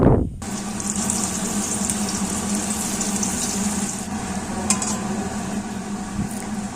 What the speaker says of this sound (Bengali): তেলটা গরম হয়ে আসলে আমি একে একে সবকটা যে ফ্রেঞ্চ ফ্রাইয়ের আলুগুলো সেগুলো দিয়ে দিচ্ছি